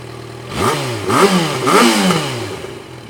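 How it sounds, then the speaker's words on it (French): Four-cylinder engine on original exhaust idling, then three quick revving bursts that rise and fall, close and loud with no talk. "elle fait le bruit du 4 cylindres, même si c'est le pot d'origine"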